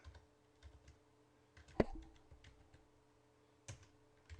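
Keys are tapped on a computer keyboard in soft, irregular clicks at close range, with one sharper, louder keystroke partway through and a few scattered presses afterward.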